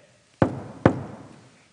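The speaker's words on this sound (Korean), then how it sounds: "누군가 문을 두드렸어." Two sharp knocks on a door, about half a second apart, each ringing briefly before fading, heard clearly with nothing else around them in a children's story scene.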